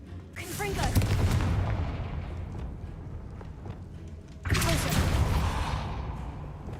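Confringo fire spell explosion in the video game Hogwarts Legacy, a booming burst near the start that rings out, followed by a second loud blast about halfway through, with a voice speaking over it.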